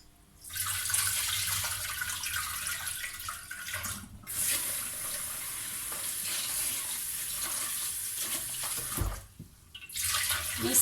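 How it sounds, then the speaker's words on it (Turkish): Bulgur is rinsed for stuffed kibbeh under a running kitchen tap, a steady close hiss of pouring water that stops briefly twice and then resumes, with no voices. "Hemen şimdi şöyle bulgurumu şurada yıkayacağım ben."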